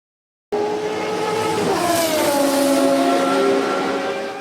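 Vintage motor cars roar past in a steady, loud engine drone with rising and falling engine tones and a hint of tire noise, arriving abruptly after a brief silence and holding strong throughout.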